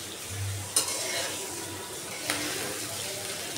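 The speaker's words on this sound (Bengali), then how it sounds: "মাছটা আমি ভালো করে কষিয়ে নেব।" Shing catfish stir-fried in oil for a papaya fish curry, a steady close sizzle with occasional scrapes and clinks of a spatula against the pan.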